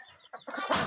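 A rooster with chest congestion gives a few brief, close clucks in a short burst, ending in a louder, rougher note.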